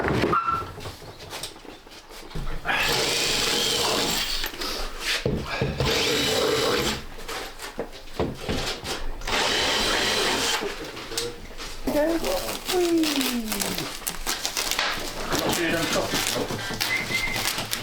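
A power drill boring a hole during construction of a large OO scale model railway, running in several loud sustained bursts with brief pauses, close by, while people talk in between.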